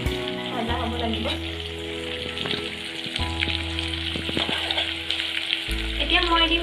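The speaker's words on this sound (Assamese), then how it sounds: "পিয়াজখিনি গোল্ডেন ব্ৰাউন হোৱালৈকে ভাজিব লাগিব গেছটো হাই ফ্লেমতে দি থৈছো" Onions sizzling over a high gas flame for chicken curry, a steady crackling fry with intermittent utensil clatter and low hum in the background.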